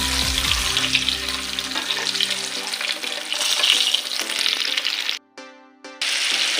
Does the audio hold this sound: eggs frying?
yes